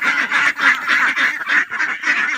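Ducks on a duck farm quack in loud, close, overlapping calls, a rapid pulsing chorus of nasal honks with no pause and no voices.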